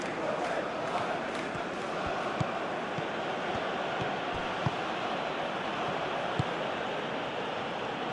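Stadium crowd noise in eFootball PES 2021 during Ghana vs USA, a steady broad roar of a large crowd with a few faint thuds under it, continuous and even.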